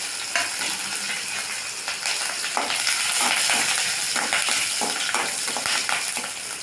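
Mustard seeds, chana dal, green chillies and dried red chillies frying in hot oil for idli upma, a steady close crackle and sizzle with scattered pops and light stirring scrapes throughout.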